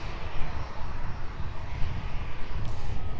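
A Ryanair jet aircraft departing East Midlands Airport in the evening, a loud, continuous engine roar with rumbling low end that holds steady throughout, no voices.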